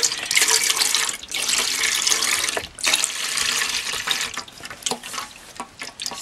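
Canned coconut milk pours into a cooking pot in splashing, gurgling bursts with short pauses between pours, close and without talk.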